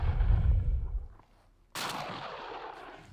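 Shotgun shots: a deep, booming report already fading at the start, then after a short quiet gap a second sharp, loud blast that leaves a long, noisy ringing tail. No voices are heard.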